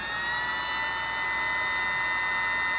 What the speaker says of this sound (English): And it's a nice little indicator that the laser is ready to fire.